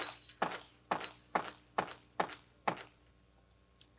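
Six sharp, evenly spaced impacts ring out in quick succession from gunshots hitting targets at the 1993 Sportsman's Team Challenge shooting competition, followed by a faint lone tap, all fairly quiet and distant.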